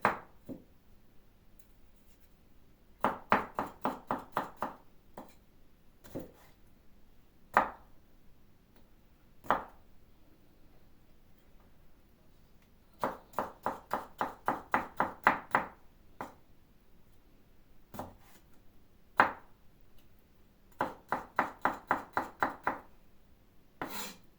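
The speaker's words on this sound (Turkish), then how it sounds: "ben hepsini doğrayayım" A knife chops vegetables for a Turkish village-style salad rapidly on a cutting board in quick bursts of several strokes, with single taps between them, close and fairly quiet.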